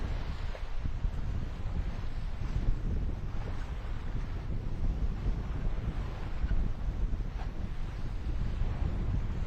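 A sailboat running under its genoa alone, with a steady rush of wind buffeting the microphone and a low wash of water along the hull, continuous and without voices.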